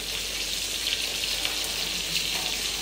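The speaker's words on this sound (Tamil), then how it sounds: "அப்படியே மீனுக்குள்ளே வந்துட்டோம் மீன் பொரிக்கிறதுக்கு" Fish frying in a pan gives a steady, dense hiss of sizzling oil, close and continuous with no break, no voices over it.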